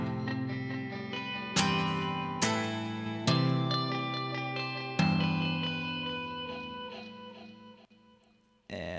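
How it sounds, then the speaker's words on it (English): An electric guitar part drenched in delay, leading into a chorus: several struck chords ring out with echoing repeats, each fading gradually, moderately quiet and alone before a sudden cut near the end. "kind of delayed guitar that happens right before the chorus"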